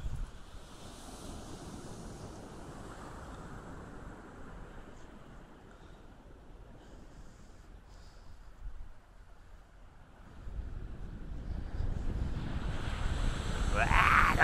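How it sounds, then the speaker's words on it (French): Ocean waves rolling onto a beach beside a port breakwater, a broad steady wash of surf mixed with wind buffeting the microphone, swelling louder as a big wave arrives near the end. "La grosse vague."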